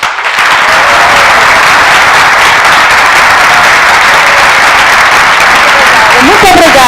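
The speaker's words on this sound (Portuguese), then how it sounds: "peço a todo o Brasil uma salva de palmas." An audience at a Brazilian mathematics teachers' programme event claps in loud, sustained, dense applause that fills the room steadily. A voice is heard near the end.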